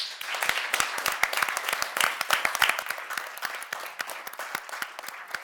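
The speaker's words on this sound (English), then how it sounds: "Just another round of applause for all of our speakers." An audience applauds speakers at a talk, with dense, crackling claps that build, hold steady and then gradually thin out, a faint voice briefly heard beneath.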